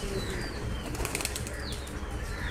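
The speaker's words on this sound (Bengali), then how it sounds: "এখানে অনেকগুলো কবুতর রয়েছে" Pigeons at a large pigeon farm flap their wings in a continuous rustling flurry over a dense, noisy background, with a brief burst of louder flapping near the middle.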